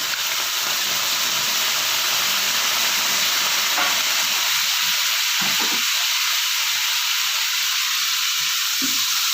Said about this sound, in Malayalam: ഞാൻ ഇതിലോട്ടേക്ക് കുറച്ച് ഉപ്പുനീരും കൂടെ ഒഴിച്ചു കൊടുക്കുന്നുണ്ട്